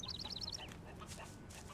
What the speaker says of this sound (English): Cave birds